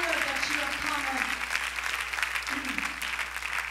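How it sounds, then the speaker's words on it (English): A church congregation gives a round of applause during a service for Delta Petroleum's 25th anniversary, with steady, continuous clapping and a voice talking over it. "give them a round of applause this morning"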